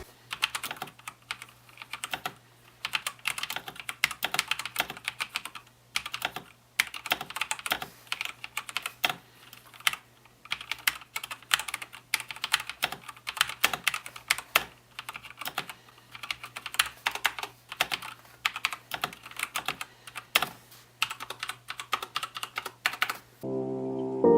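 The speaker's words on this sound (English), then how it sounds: "I've gone with the Razer yellow switches, so they're completely silent, so I'll chuck up a sound test of that right now" Someone types steadily on a Razer BlackWidow V2 mechanical keyboard with yellow switches, producing a soft, continuous patter of keystrokes at close range with no talking, and a brief musical tone appears at the very end.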